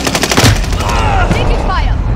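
Rapid gunfire in a Call of Duty: Warzone gulag fight rattles loud and close in quick bursts, with a voice speaking amid the shots.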